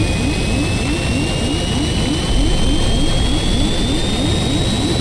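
In the Stranded Deep video game, a private jet's engines roar loud and constant as the plane goes down over the Pacific Ocean, with a rising whine riding over a pulsing low rumble.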